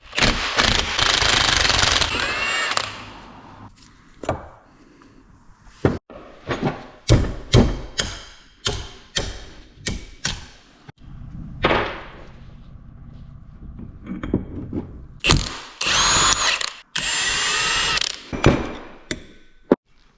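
Power tool, likely an impact wrench, removing a large pinion nut from a Civic Type R transfer case, loud bursts of rapid hammering with ratcheting clicks and clanks of metal parts in between, close and without talking.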